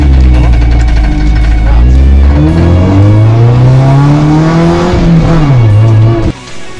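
A car with a damaged CV joint turning, giving a loud, continuous engine drone whose pitch rises and holds, then dips before cutting off abruptly near the end, with no talk.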